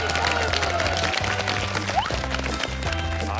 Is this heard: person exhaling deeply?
no